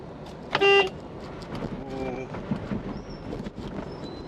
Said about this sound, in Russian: О, проверил сигнал. Сигнал что-то какой-то дешевый.